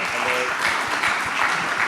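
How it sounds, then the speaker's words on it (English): Audience applause at a start-up showcase event, brief steady clapping from a seated crowd, with a faint voice briefly audible underneath. "Please give another round of applause for Kathy"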